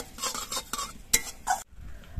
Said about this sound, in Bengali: এবার এই মশলাগুলো আমি কয়েক সেকেন্ড ভেজে নেব।